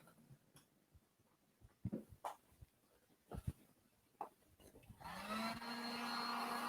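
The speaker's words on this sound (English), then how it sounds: "I'm going to grab the heat gun one more time" A few faint knocks and handling taps, then a heat gun switches on and blows a steady, rising whoosh of hot air over a Dixie Mud raised stencil, close and continuous to the end.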